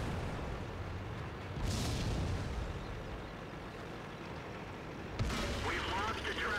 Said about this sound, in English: Got tracks blown off with the very first shot.